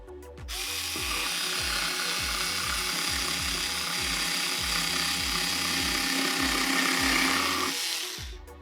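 Electric scissors chew through eight layers of denim with a steady, loud motor whine and a fast ratcheting clatter of blades, running continuously for about seven seconds before cutting off.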